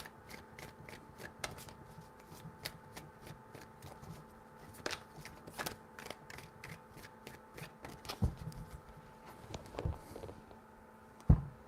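A tarot deck handled and shuffled at low level: a long run of soft, irregular card slaps and papery ticks, close and unhurried, with no voices.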